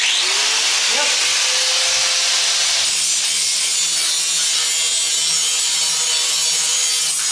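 Power grinder working bondo off the body of a 1962 Comet, a loud, steady, harsh whine that runs without pause the whole time and dips slightly in pitch early on.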